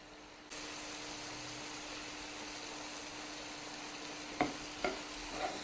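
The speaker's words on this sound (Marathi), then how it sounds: "आता या मसाल्यात आपले बटाटे छान परतवून घ्यायचे आहे" Potatoes sauté in a masala in a pan with a steady close sizzle and hiss, and a few sharp stirring knocks of a spoon against the pan near the end.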